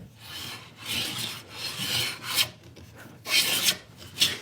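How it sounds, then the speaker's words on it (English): Hand plane pushed across a wooden board, taking a thin shaving: soft rasping swishes in repeated forward strokes, close and fairly quiet, with short pauses between passes. "I put my plane on here. Watch what happens now. When I push forward, I can hear it kissing the wood."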